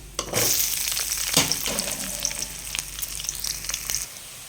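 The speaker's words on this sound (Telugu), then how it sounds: "ఆయిల్ కాగిందండి ఆవాలు శనగపప్పు ఉద్దిపప్పు అవి అయితే వేసాను" Mustard seeds, chana dal and urad dal sizzle and crackle in hot oil, a steady loud frying hiss with scattered pops and spatters that runs without a break for about four seconds, then cuts off.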